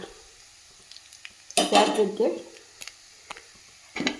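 Spice powders of turmeric, coriander and black pepper sautéing in a pan, with a loud burst of sizzling and stirring in the middle, scattered spoon clinks before and a brief flare of frying near the end.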